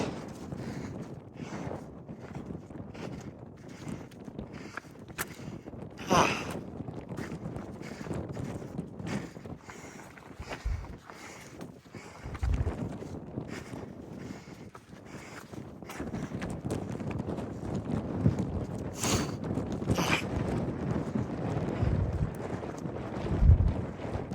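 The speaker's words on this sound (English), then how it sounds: "It's windy." Wind gusting across the summit area of Mount Washington, buffeting the microphone in uneven bursts and rumbles, with occasional crunching steps and no talk.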